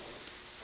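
Spray gun laying a thick coating onto a Toyota Supra door panel, a steady, close, continuous hiss with no break throughout.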